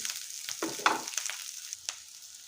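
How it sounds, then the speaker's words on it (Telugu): Onions and green chillies fry in a hot pan, a soft steady sizzle with a few sharper crackles and scraping stirs, close and fairly quiet with no talking. "పచ్చిమిర్చి వేసేసేసి వాటిని కూడా ఉల్లిపాయలతో పాటే వేసేసేయండి"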